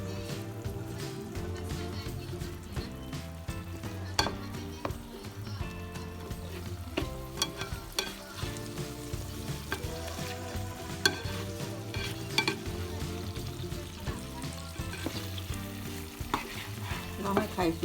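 Egg fries and gets stirred in a hot pan for shrimp and bacon fried rice, a continuous crackling sizzle with repeated scrapes and taps of the spatula throughout, close and steady.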